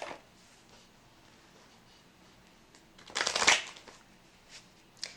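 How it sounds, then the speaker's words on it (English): Lenormand cards are shuffled at close range in one brisk riffling burst, with quiet handling sounds before and after and no speech. "I also want to get a Lenormand card for this."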